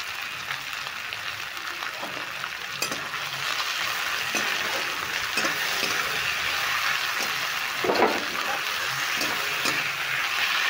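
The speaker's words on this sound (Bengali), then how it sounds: "একটু হালকা করে ভেজে নেব।" Chopped onions and tomatoes frying lightly with a little salt in a pan, giving a continuous soft sizzle broken by occasional clinks and scrapes of a spoon stirring.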